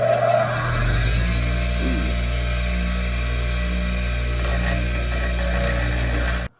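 A small machine shaves down a GoPro mount, producing a steady low mechanical hum with faint scraping and grinding on top, running continuously for several seconds before cutting off abruptly.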